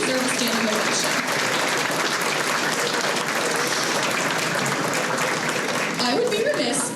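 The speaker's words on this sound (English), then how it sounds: "Give yourselves a round of applause because you truly deserve a standing ovation." Sustained applause from a large audience at a county fair queen competition in Fayette County, a dense, steady clapping that fills the space throughout, with some crowd voices mixed in.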